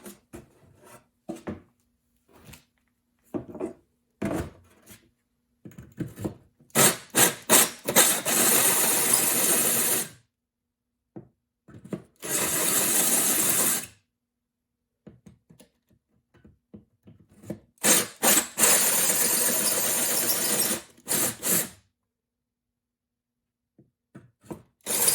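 A 2 3/8 inch hole saw grinds into the metal front clip of a 1968 VW Bug, scoring it in several loud bursts of cutting separated by short pauses and brief taps.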